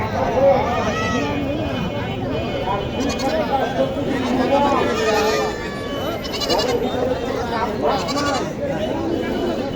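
Goats bleating repeatedly at a goat market in Dhamoirhat, Naogaon, amid a busy crowd, with many people talking and chattering around them at close range.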